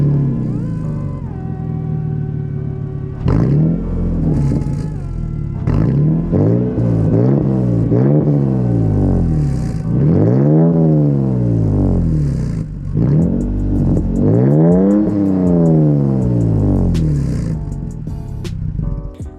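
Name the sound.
Toyota Tacoma truck with carbon exhaust starting and revving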